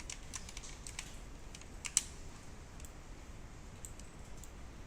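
Light, irregular clicks of a computer keyboard being typed on to add text in Photoshop, faint and close in a quiet room, with one sharper key tap partway through.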